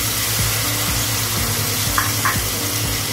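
Cooked aviyal vegetables, including boiled drumstick and elephant yam, being stirred and mixed together in a pan, a steady broadband hiss with soft rhythmic scraping strokes repeating about every half second, close and continuous with no talk.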